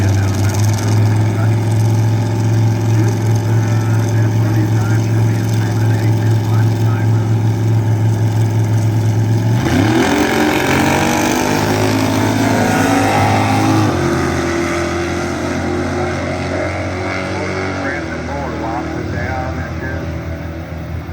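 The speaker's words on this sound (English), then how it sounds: "That truck in the far lane, it's pretty fast." A truck drag racing down the far lane at the Kentucky Dragway, its engine roaring loud and sustained, rising and shifting in pitch as it accelerates away.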